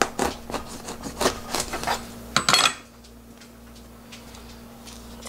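A small knife cuts and scrapes through a young, soft bottle gourd on a board. Several sharp clicks and scrapes come close in the first few seconds, then only a quiet room hum remains.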